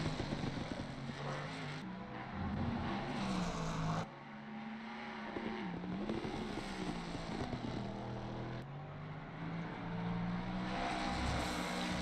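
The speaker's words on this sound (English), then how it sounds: "Here comes the Brabham car" A Brabham race car in a sim racing broadcast of a 4-hour Nürburg endurance qualifying session, its engine droning and shifting pitch as it drives past, with steady loud engine noise and abrupt cuts between camera views.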